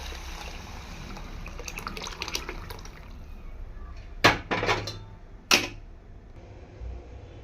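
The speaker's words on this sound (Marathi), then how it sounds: "त्यामध्ये आपण ह्या रसा ॲड करणार आहोत" Curry broth is poured into roasted black masala in a pan. Faint sizzling gives way to two or three sharp, splashy pouring bursts, followed by a quieter bubbling hiss.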